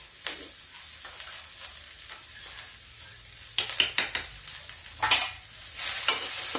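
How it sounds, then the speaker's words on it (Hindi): Cumin and fennel masala fries in a little oil over a low gas flame, a soft continuous sizzle with scraping stirs that come in bursts and grow louder toward the end, and no voices. "इसमें मैं मसाला भूनती हूँ"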